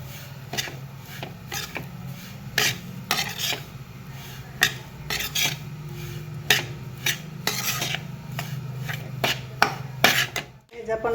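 Wheat semolina roasting in ghee in a pan, stirred with a spoon that scrapes and taps the metal in irregular bursts over a soft sizzle, close and fairly loud, ending in a sharp clatter.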